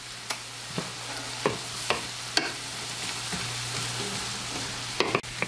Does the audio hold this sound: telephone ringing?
no